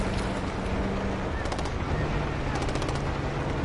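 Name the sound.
machine gun fire in video game Call of Duty Black Ops 6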